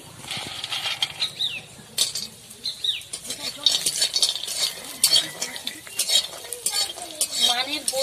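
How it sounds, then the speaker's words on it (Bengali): Lentil badis frying in a pan on the stove, with a steady sizzling bed under repeated metal scrapes and clinks of a spatula stirring against the pan, close and fairly loud throughout. "এরপর মানের বড়িগুলো ভেজে নিচ্ছি।"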